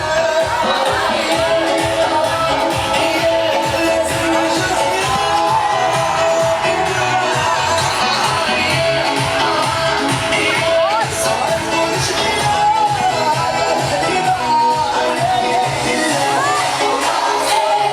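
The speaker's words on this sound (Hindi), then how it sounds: "Come on, cheer them up." A packed crowd at an LPU event cheers, whoops and shouts continuously, a loud unbroken wall of voices with sharp yells rising above it throughout.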